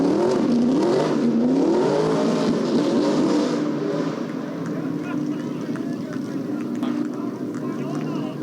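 A street stock race car drives through turns 3 and 4 toward victory lane after winning, its engine droning and shifting in pitch under loud commentator speech, then fading to steady crowd and track noise.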